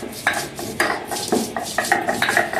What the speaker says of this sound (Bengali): এবার আমি লঙ্কাটাকে বেটে নেবো।